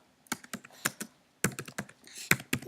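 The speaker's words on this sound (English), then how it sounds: "you have to type pip3" Typing on a computer keyboard, two short runs of crisp close keystrokes separated by a brief pause, with no other sound.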